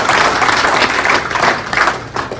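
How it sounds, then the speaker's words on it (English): A crowd at an Alberta provincial election town hall in Calgary breaks into loud, dense clapping, a brief burst of many hands with slight swells, no talking over it. "Let's get a big round of applause for our"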